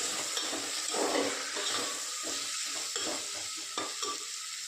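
Potato bhaji is stirred with salt in a frying pan, a soft sizzle running throughout under repeated scraping strokes of a spoon against the pan, close and steady.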